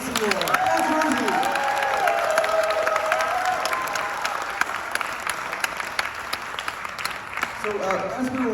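Audience applause at a film screening, a steady wash of clapping with a few cheers and voices talking over it throughout, fairly close and even in level.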